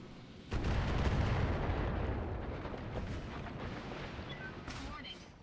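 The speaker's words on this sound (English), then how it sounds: "Scored a critical hit. Stop shooting at me!" Heavy weapon fire slams into mechs in the game BattleTech, a loud booming barrage that starts abruptly and rumbles on with sharper cracks, while a voice talks over it.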